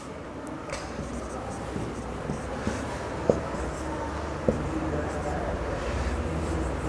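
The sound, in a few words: writing by hand during a lesson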